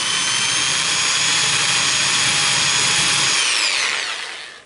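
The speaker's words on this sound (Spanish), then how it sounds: "la idea es controlar el trabajo del taladro, que no se vaya hasta el fondo" A power drill whines loudly and steadily at high speed boring a hole in a speaker baffle, then spins down and fades out at the end.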